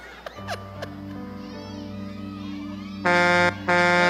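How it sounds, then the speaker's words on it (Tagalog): A loud vehicle horn honks twice near the end, after a stretch of quieter tonal background noise with a few brief chirps. "Bumusina na."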